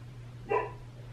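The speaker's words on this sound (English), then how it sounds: "I hear my dog barking." A single short dog bark, fairly faint and somewhat distant, over a steady low hum indoors.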